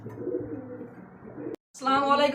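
Pigeons cooing at a pigeon farm where birds are kept for sale, a steady low murmur of several birds, then a short silence and a louder, nearer burst of cooing and calls.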